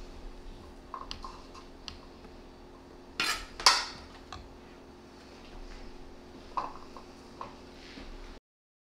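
Utensils scrape and clatter against a dish while crispy Lao nam khao fried rice is broken apart, with scattered light clicks, two sharp louder knocks near the middle and small taps later, all close and otherwise quiet.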